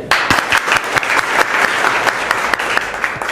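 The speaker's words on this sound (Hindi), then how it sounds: "आपको मालूम है न्यूटन ताली बजाइए" Students in a Jharkhand government school classroom clap together, a loud, close burst of hand claps with a quick uneven rhythm that continues steadily for a few seconds.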